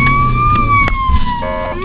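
Ambulance siren on a road in Poland, a loud, steady wailing tone that glides slowly up and down, sounding close and continuous over low traffic rumble.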